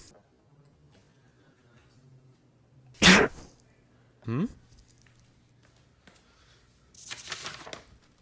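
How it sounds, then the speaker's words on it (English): A single sharp sneeze bursts out around midway through an otherwise quiet stretch, followed by a couple of shorter noises and a rustling burst near the end. "I was going so fast I accidentally sneezed interdimensionally."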